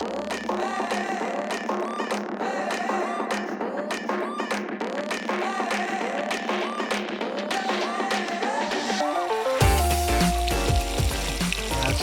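Chapli kebab sliding into hot frying oil: steady crackling sizzle with popping bubbles throughout, growing louder and fuller near the end.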